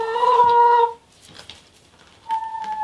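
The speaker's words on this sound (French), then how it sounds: "Bienvenue dans le poulailler. C'est cette poule là qui s'est fait attaquer par un rapace." Hens in a henhouse on a permaculture smallholding give a loud, close run of sustained, harmonic squawks and clucks, then go quiet before another call at the end.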